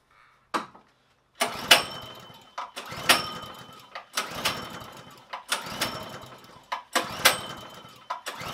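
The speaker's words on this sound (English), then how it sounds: "Let's see if we can get this one to fire." A small go-kart engine is cranked over and over: repeated pull-start bursts that sputter briefly and die, each separated by short pauses, close and fairly loud.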